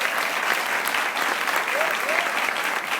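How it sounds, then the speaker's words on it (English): A room of people at a Nashville challenge party clapping in a sustained, dense round of applause, steady and fairly loud from start to finish, with faint voices mixed in. "Give those people a big round of applause."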